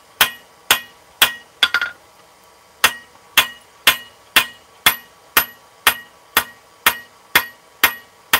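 Hammer blows ringing on hot steel at an anvil while forging grill tools, a steady series of about fifteen sharp metallic strikes in an even rhythm with a brief pause, loud and close with bright ringing overtones.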